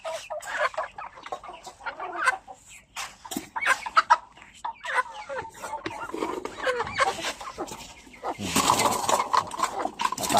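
Breeder chickens clucking busily as they are fed in a backyard farm, repeated close clucks and scratchy calls, growing denser toward the end, with someone talking intermittently.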